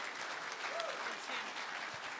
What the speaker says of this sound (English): let's have a big round of applause for those two ladies